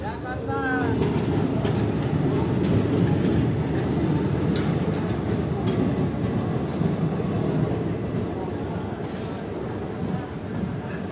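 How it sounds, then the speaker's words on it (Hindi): The Jogbani–Saharsa Intercity Express runs on its line, giving a steady loud rumble with rattling wheels, heard close and continuous for the whole span. "तो निकल गई है इंटरसिटी एक्सप्रेस"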